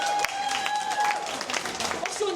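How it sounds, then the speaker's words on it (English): Audience applause at a live show, a short burst of dense clapping from a small crowd, steady throughout and somewhat close. "Everyone applaud this amazing one."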